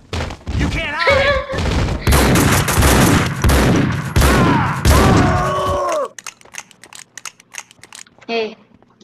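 Gunfire from the video game Max Payne 2, several loud bursts of shots and impacts over the first six seconds with game voices shouting over them, then quieter scattered clicks and a short late burst.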